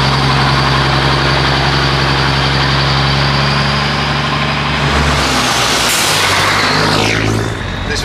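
A DAF 95XF truck's diesel engine running close by, a loud, steady low idle rumble that shifts and rises toward the end, with no talk.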